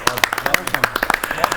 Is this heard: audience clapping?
yes